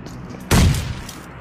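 A grenade detonates in the mobile battle-royale game Peacekeeper Elite, a single loud, deep boom that hits abruptly and rings out briefly before fading.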